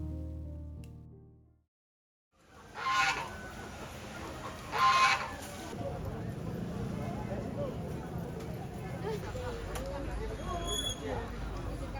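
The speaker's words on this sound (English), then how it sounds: "Besides fighting roosters, you can also find plenty of regular poultry here for food." Fighting roosters and other poultry at a rural village market in Guizhou, China, cluck and give a couple of short crowing calls amid a busy crowd murmur, after a brief opening sound and a moment of silence.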